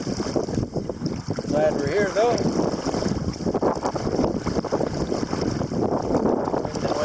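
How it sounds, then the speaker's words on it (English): Wind and lake waves during a canoe crossing to the far side of Aikens Lake on the Bloodvein route, a steady loud rush of gusting wind on the microphone and water, with a brief voice speaking partway through. "Wind and waves will be picking up just a little bit."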